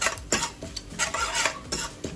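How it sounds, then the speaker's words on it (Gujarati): A spoon stirs ground coriander and black pepper into a potato samosa filling in a pan. Quick, rhythmic scraping strokes land about twice a second, close and clear, with a faint sizzle beneath. "હવે આપણે ધાણા અને કારા મરી ખાંડેલા છે એ એડ કરવાના છે અને સારી રીતના આપણે મિક્સ કરી દઈશું"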